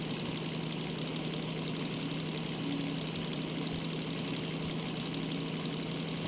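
A DM3 diesel locomotive in Derail Valley, hauling 400 tonnes from a coal mine to a steel mill, revs with its throttle raised, a steady, loud engine drone with a knocking, throbbing hum that holds on without talk.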